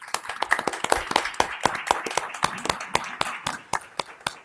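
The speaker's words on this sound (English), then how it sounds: "If we could just conclude by giving Ms. Butterfield one more hand of applause." A small group claps for several seconds at the close of a swearing-in ceremony, with sharp, fairly close individual handclaps rather than a dense roar.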